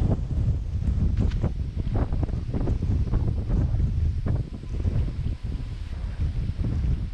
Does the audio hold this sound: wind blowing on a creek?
yes